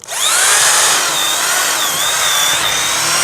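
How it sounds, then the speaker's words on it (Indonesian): A Dongcheng DJZ10-10 electric drill whines loudly and continuously up close, its pitch dipping and recovering as it bites into the material. "masih bisa mengebor sampai dengan akhir"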